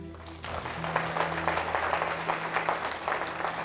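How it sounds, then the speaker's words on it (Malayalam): A church congregation claps together at a Malayalam Christian worship service, the steady, dense clapping starting after a brief lead-in and continuing throughout over a low sustained musical tone. "ഒന്ന് കൈ ഉയർത്തി കൈയടിച്ച്"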